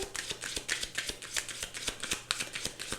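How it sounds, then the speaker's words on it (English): Tarot cards are shuffled rapidly nearby, a dense run of crisp riffling flicks and taps with no talking. "we'll just do one more shuffle"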